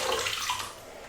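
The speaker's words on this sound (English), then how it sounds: "I am just going to wash my legs a little bit." Water splashes and pours continuously while legs are washed in a bathtub, a close, dense wash of sound with no voices.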